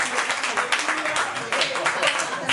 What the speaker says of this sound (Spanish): Se acaba de ir. Un aplauso, por favor.